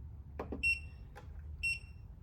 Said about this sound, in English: Hear it beep a few times, and then the treadmill starts.